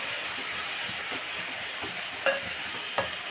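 Salt and turmeric are stirred into tomato curry in a pan, a steady quiet sizzle with faint scraping and two sharp spoon clinks near the end, close and with no talking.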